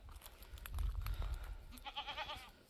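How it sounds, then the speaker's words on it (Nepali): Goats by a stream bleat a few times at a moderate distance amid outdoor rustling and low rumble, with a wavering, quavering call near the end. "बाख्राहरू त्यतिकै दौडिरहेछ मेरो बाख्राहरू"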